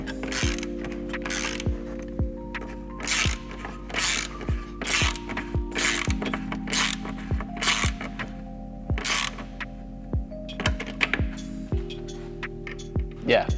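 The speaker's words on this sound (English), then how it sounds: "Our hardware on this kit for the wings here is a 5mm Allen and 10mm wrench, and it's a nylock nut up top" Ratcheting wrench tightening a nylock nut on the wing hardware of a carbon fiber rear diffuser on an MK7 GTI, close rhythmic clicking in repeated bursts over a faint steady hum.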